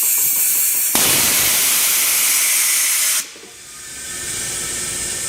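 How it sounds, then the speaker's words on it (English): A tire changer machine fires a sudden, loud blast of air to seat a tire bead. The hiss holds for about two seconds, cuts off sharply, and leaves a quieter hissing afterward. "Now there's going to be a big blast of air."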